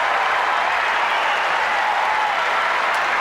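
Crowd at Louis Armstrong Stadium during a 2001 US Open tennis match applauds loudly and steadily, a dense unbroken wash of clapping with no voices on top.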